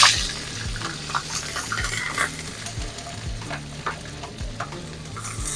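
Onions fry in hot oil in a pot for a Guyanese baigan stew, sizzling steadily beneath repeated spoon stirs and clinks, with a low rhythmic hum in the background and no voices.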